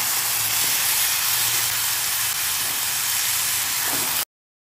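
Chicken curry boils in a pot after water is poured over the fried chicken pieces, giving a steady, fairly loud bubbling hiss that runs unbroken before cutting off abruptly.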